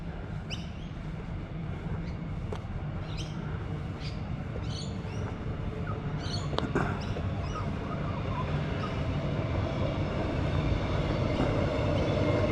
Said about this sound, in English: An old EMU set, number 35. That's first generation electric train.